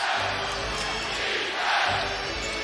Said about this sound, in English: this crowd is certainly fired up